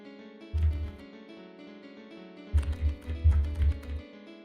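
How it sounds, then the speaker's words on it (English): Computer keyboard typing up close during a Wynncraft gaming session, with short bursts of clacking keys separated by pauses, over faint background music. "Probably hear my keyboard more than you can hear the music."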